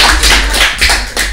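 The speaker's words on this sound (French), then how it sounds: "Des applaudissements s'il vous plaît pour lui et son camarade." A short burst of steady audience applause for a school student at a children's word competition, dense hand clapping filling the whole moment without any voices.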